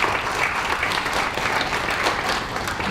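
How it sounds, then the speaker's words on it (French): Steady, dense applause from an audience at the launch ceremony for Haïti Je M'engage, sustained at even loudness throughout with no voices over it. "Merci, veuillez applaudir s'il vous plaît."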